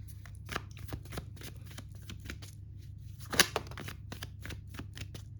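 Tarot cards shuffled by hand in a quiet room, a run of soft, rapid riffling flutters and light slaps close to the microphone, with one sharper snap partway through.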